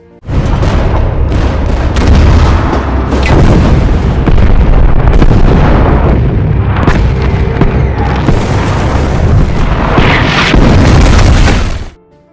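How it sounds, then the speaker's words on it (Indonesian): An artillery barrage fired on Soviet soldiers: loud, dense, continuous booms and rumbling blasts overlap without pause for several seconds, then cut off abruptly. "Setelah koordinat siap, artileri pun langsung ditembakkan."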